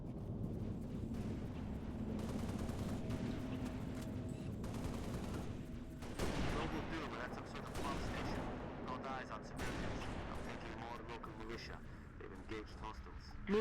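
Rapid bursts of gunfire and explosions from the Halo: Reach game, including magnum and security sidearm shots, crackling densely and continuously, with loud impacts around the middle and voices talking over the action.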